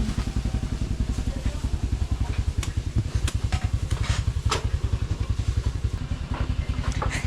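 An automatic motorcycle engine runs at a steady idle, a close, low pulsing putter with a constant rhythm and some light clatter over the top, with no talking.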